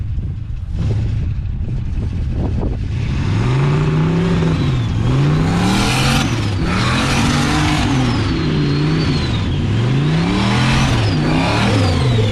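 Turbocharged LS V8 swapped into a Toyota Hilux 4x4 revs hard in a paddock, with repeated rising and falling engine sweeps and a turbo whine overhead, loud and close with no talking.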